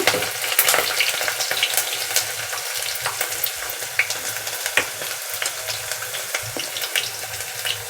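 Garlic and ginger frying and sizzling in hot oil in a pan, a loud continuous close crackle with small sputters and occasional stirring clinks throughout, with no talk.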